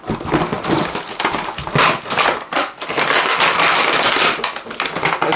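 A Nerf Zombie Strike Sledgefire blaster being pulled and ripped free of its plastic packaging, loud close crackling, crinkling and rustling in dense bursts with brief pauses.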